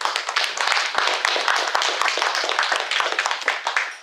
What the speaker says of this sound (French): je demanderai que vous l'applaudissiez très fort